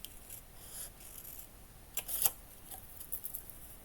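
Snips from a pair of paper scissors cutting paper while building a miniature cat cafe garden room box, heard as a few quiet, crisp bursts clustered near the middle, close and alone against a soft background hiss.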